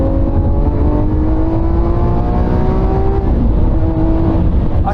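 A Lamborghini Aventador's engine drones loudly and steadily from the cabin, with a sustained mechanical hum that shifts pitch slightly midway, rising and settling as the car drives on.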